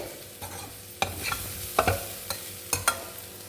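A spoon stirs Chinese potato (sirukilangu) stir-fry in a pan, making several close scraping strokes with a light sizzle underneath and no speech.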